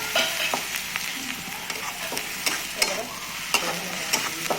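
Finely chopped onion sizzles steadily in a hot pan as a spoon stirs it until browned, with sharp scraping clicks every half second or so over the continuous frying hiss.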